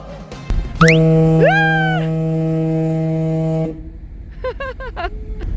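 A loud, long ferry horn blast signalling arrival at Busan holds a steady deep tone for nearly three seconds, followed by faint chirpy chatter.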